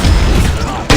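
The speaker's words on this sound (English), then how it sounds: "Notice I'm launching my mortars behind Lance" Mortar blasts in the Vainglory mobile game rumble in a rolling barrage, ending in a fresh, sharp detonation near the close.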